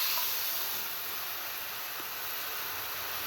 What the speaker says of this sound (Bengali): এখন তেঁতুলের টকটা দিয়ে দিচ্ছি।